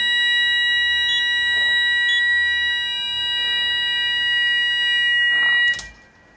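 A Kentec Sigma XT fire alarm sounder blares a loud, continuous electronic tone that holds steady, then cuts off abruptly near the end.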